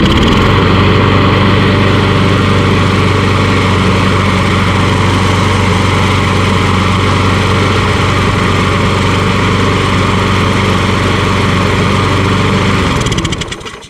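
A lawn mower runs steadily after an engine swap and without its air filter fitted, a loud, close, even small-engine drone with a constant hum that cuts out abruptly at the end.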